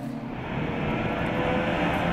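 Race cars launch at the start of an endurance race at Dijon, a Porsche on pole leading the field, producing a loud, sustained blended engine roar that swells as the pack accelerates away.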